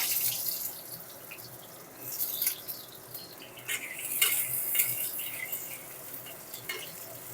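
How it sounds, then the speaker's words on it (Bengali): Cut potatoes fry in hot mustard oil, a faint crackling sizzle with bursts of bubbling and a few utensil clinks, close but quiet. "এই তেলের মধ্যে কেটে রাখা আলুগুলো দিয়ে দেব আলুগুলো ভেজে নেব"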